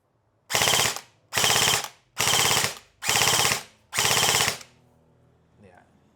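Airsoft rifle styled after the John Wick gun fires on full auto in five loud, evenly spaced bursts of rapid shots, each lasting under half a second, followed by quiet handling noise.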